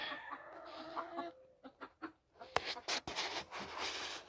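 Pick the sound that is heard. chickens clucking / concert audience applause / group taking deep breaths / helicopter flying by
chickens clucking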